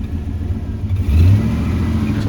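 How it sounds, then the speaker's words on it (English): The engine of a 2000 GMC 4x4 truck that acts up when cold, with the gas feathered, gives a loud, close, rough low drone. It rises briefly as it revs and then holds at a raised idle. "if I feather the gas right now, I'd be able to keep it going."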